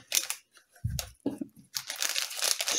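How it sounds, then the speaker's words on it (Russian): A plastic packet holding a bead embroidery kit is rustled while being unpacked, producing close, uneven crinkling bursts with brief gaps and a few low handling bumps. "Немножко придется мне пошелестеть."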